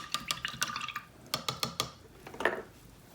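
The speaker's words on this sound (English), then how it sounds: "I'll wash my brush." An acrylic paintbrush is rinsed in a water jar: quick clusters of light glassy taps, clinks and small sloshes, close and fairly soft, arriving in short bursts separated by brief pauses.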